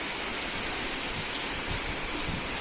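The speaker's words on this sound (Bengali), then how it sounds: "উল্টো রথে বৃষ্টি হবে না এটা তো হতে পারে না, না? এই যে বৃষ্টি হচ্ছে।" Steady rain falls on a cloudy morning, an even, close patter of drops on surfaces that continues without pause, with no voices or other sounds standing out.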